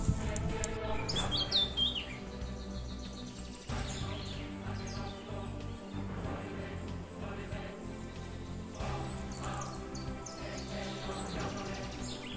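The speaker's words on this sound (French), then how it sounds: "Je vous ai filmé un petit oiseau" A small bird chirps repeatedly outdoors at the Motte du Châtel, its high thin tweets coming in short bursts over a busy background of other bird calls and faint insect hum, fairly distant and soft, with no talking.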